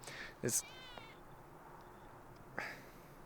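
A cat lets out a short meow, then a second, quieter meow a couple of seconds later, close by in a quiet room.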